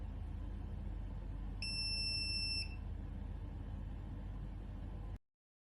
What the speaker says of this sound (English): you'll witness the LED and buzzer activation and deactivation as programmed